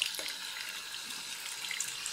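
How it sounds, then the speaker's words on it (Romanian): A tap runs into a sink in a home bathroom, a steady splashing gush with small bright drips and bubbles, close and unbroken, with no one speaking. "Să dăm drumul la apă"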